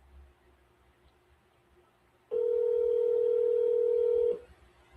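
A single steady electronic tone from a phone call ringing out plays loud and unbroken for about two seconds, then stops, with quiet background room noise before and after and no talking.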